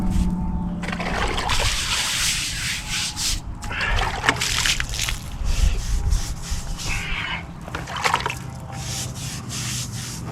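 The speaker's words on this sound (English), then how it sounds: "Okay, let's rinse it now." Rainwater rinsing over a 120-year-old headstone, with steady rubbing and splashing close up, continuous for the whole stretch, with brief pauses and surges.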